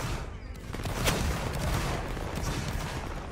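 Musket volleys and artillery fire in a Napoleonic Wars battle game, a dense continuous roll of overlapping gunshots and booms with one sharper crack near the middle, loud and sustained throughout.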